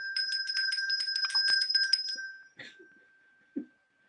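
A small bell used to summon an assistant is rung rapidly several times, close and clear, then fades, followed by a few faint knocks and handling sounds.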